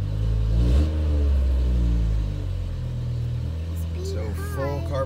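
A BMW E60 M5 backs up, its engine giving a steady low rumble close by with a slight rise and fall. Voices talk over it near the end.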